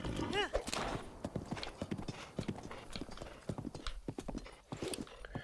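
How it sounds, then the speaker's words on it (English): Horse hooves clip-clop steadily in Zelda: Breath of the Wild, a fast rhythmic run of close hoofbeats with a brief whinny near the start, under a player talking over the game. "Come on, I need the horse to move."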